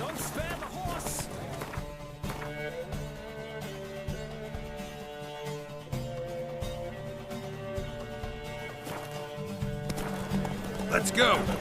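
Rapid hoofbeats of galloping horses in a horse race in The Witcher 3 thud along beneath a swelling orchestral score, with a brief shout near the start and end.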